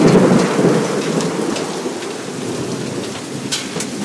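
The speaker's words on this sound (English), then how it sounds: "That's big ass hail." Hail pounds down in a dense, steady roar, with sharp impacts of large hailstones scattered throughout and a low rumble of thunder underneath.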